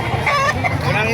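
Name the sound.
rooster at a chicken market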